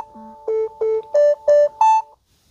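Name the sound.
Galaxy Watch 4 water-eject sound expelling water from speaker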